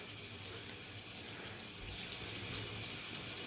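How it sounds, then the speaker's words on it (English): Tap water runs steadily into a sink for a quick face rinse during a morning skincare routine, a continuous close, moderate splashing stream with no talk. "give it just a little quick rinse"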